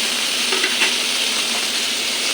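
Hog plums (amra) frying in a pan on low gas heat, a loud, steady, close sizzle with a few brief crackles and no voices.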